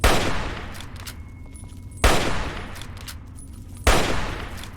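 Three sharp gunshots from the video game Fallout 3 ring out about two seconds apart, each striking loud and close before its echo dies away, with no talk over them.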